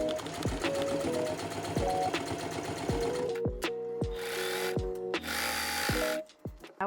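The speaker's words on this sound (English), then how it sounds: "ensure that everything is nice and even before sewing it in place" Sewing machine stitching two layers of fabric for a maxi skirt waistband, a steady close mechanical whir with rapid needle clatter that pauses briefly and restarts in short runs.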